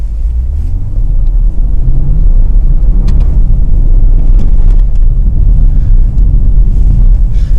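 A Porsche Panamera 4S V6 with its sport exhaust open drives along, producing a loud, continuous low engine roar and road rumble heard from inside the cabin, steady throughout with no talking.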